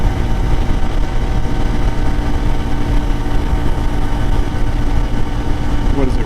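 A CFMoto IBEX 450 motorcycle engine holds around 7,000 RPM while riding, a dense steady drone with wind rush that stays loud and close throughout, with a rider's voice faintly underneath.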